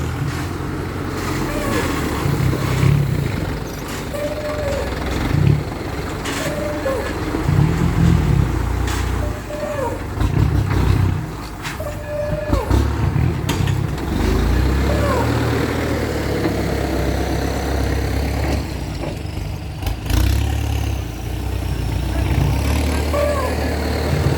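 A tractor engine runs steadily while being driven along a road laid with stone, a continuous low rumble with some rattling, close and fairly loud throughout.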